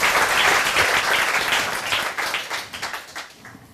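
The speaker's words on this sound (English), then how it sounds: "Ladies and gentlemen, a big round of applause for Kristian Martiny." An audience at a science talk event applauds, a dense wash of clapping that holds steady and then thins into scattered claps as it dies down.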